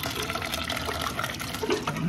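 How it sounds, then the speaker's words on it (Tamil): Water pours steadily into a new clay pot for Pongal, a continuous splashing gurgle, close and fairly loud, no voices. "அப்புறம் தான் தண்ணி ஊற்றுங்க."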